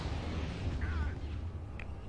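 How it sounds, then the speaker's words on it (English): A bomber squad pounds an area in the Star Wars: Thrawn's Revenge strategy game, producing a continuous, loud, low rumble of overlapping explosions with a brief warbling whine partway through and a faint high blip near the end. "Fine, screw it. I'm just going to bomb that whole area."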